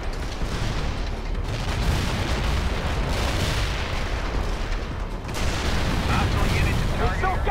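Artillery barrage in the World in Conflict strategy game: dense, continuous rumbling booms and distant blasts roll on without pause, with shouted voices over the din.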